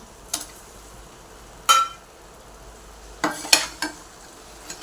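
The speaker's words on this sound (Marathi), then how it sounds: "हेही मिक्स करून घेऊया मसाले छान शिजले गेले तर त्यामध्ये आपण अंडे टाकून घेऊया" Eggs being stirred into sizzling masala for a spicy Maharashtrian egg curry, with a few scattered utensil clinks and scrapes against the pan over a faint frying hiss, no talk.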